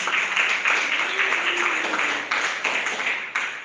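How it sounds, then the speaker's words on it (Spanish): A church congregation applauding during an evening service, steady mid-level clapping from many hands throughout, with a few slightly stronger surges and no voices rising above it. "Alguien que le dé un aplauso al Señor en esta noche."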